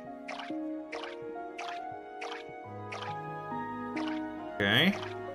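Water splashing onto crops in Core Keeper, a run of about seven short dripping splashes in steady rhythm over a low game music bed, ending in a brighter gurgling burst.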